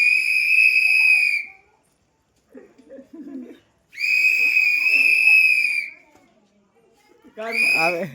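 Loud, piercing whistles blown right beside a man's ear in a village, in three long sustained bursts separated by brief pauses with some murmuring between them.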